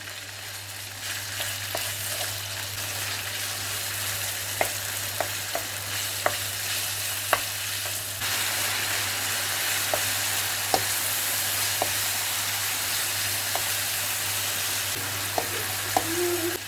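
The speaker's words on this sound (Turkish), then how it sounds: "Kızan yağımızın içine 600 gram bezelye boyutuna doğradığım kemiksiz tavuğu ilave ediyorum" Boneless chicken pieces sizzle and crackle steadily in hot oil, a constant frying hiss with occasional sharp pops and a low hum underneath.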